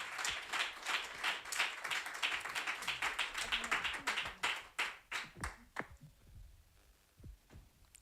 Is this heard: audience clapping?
yes